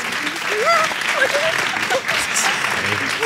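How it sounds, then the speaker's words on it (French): Applause from a studio audience greets the winners of a televised debate final, heard briefly under a voice speaking over it. "Nous pouvons les applaudir."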